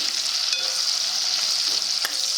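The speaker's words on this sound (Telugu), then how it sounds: "ఈ ఉల్లిపాయ పచ్చిమిరపకాయ ఎక్కువగా వేగాల్సిన పనే లేదు ఎయిటీ పర్సెంట్ వేగితే చాలు" Sliced onions and large green chillies frying in a pan make a steady, close, bright sizzle with light stirring scrapes throughout.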